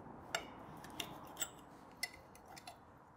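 Knife and fork cutting smoky back bacon on a plate at a motorway cafe: a handful of sharp metallic clicks and scrapes spaced about half a second apart, close and fairly quiet over a soft room hum.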